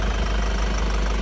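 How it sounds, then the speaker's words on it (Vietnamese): Isuzu D-Max HiLander 2023 diesel engine idling, with a close, steady low rumble and a faint knocking clatter, and no voices over it. "Hiện tại là em đang cho máy nổ thì thầm cho quý thằng nha. Thì thầm máy dầu."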